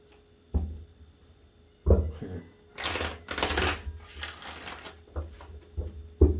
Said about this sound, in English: Let's give this 3 shuffles